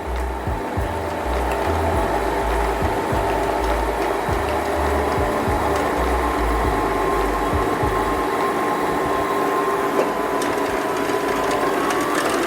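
A sewing machine running steadily to wind thread onto its bobbin, a close continuous whirring hum with a fast rhythmic mechanical patter, alone with no talk.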